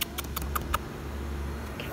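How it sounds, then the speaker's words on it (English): A cat meows a few short, soft times close by amid quiet background noise. "Oh, I hear a cat."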